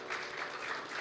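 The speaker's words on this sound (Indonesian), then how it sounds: "Kasih tepuk tangan buat Tuhan." Church congregation applauding during an evening worship service, a dense, steady burst of clapping that fills the whole moment with no pauses.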